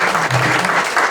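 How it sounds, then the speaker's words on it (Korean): Loud, close applause of encouragement from a congregation at a church mission forum, a short dense burst of many hands clapping. "격려 박수 한번 하시겠습니다."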